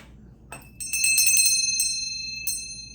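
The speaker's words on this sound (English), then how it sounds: "Bell for that." A small bell rings several times in quick succession and then once more on its own, each strike clear and bright and leaving a lingering metallic tone against a quiet background.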